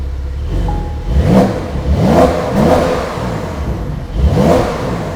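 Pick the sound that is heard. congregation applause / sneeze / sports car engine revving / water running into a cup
sports car engine revving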